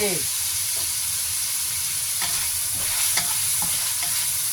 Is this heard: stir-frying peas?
yes